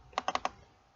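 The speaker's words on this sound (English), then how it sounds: "I'm just typing it for the sake of illustration." A short burst of four quick keystrokes on a computer keyboard, crisp and close, followed by quiet.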